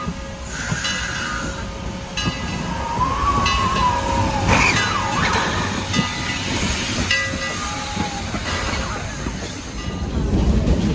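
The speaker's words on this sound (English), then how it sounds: "so the train's running now" A train rumbles along steadily with a hissing wash, faint squeals and whistle-like tones drifting over the continuous loud noise.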